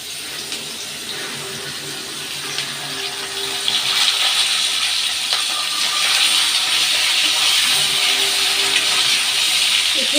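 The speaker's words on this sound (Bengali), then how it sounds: "আলুগুলো আমি একটু হালকা ভাজবো, তারপরে বাকি সব সবজিগুলো দিয়ে দেবো।" Potatoes lightly frying in a pan: a steady, close hiss that swells slightly partway through and holds to the end, with no talking.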